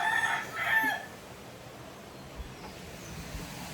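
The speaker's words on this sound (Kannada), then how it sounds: "ನಮ್ಮ ಕೋಳಿ ಆವಾಗಲಿಂದ ಗುಡ್ ಮಾರ್ನಿಂಗ್ ಹೇಳ್ತಾ ಇದೆ ಗೈಸ್" A rooster crows once at the start, fairly near and clear, over quiet outdoor background noise.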